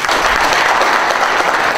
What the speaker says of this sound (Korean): 가장 큰 박수 부탁드리겠습니다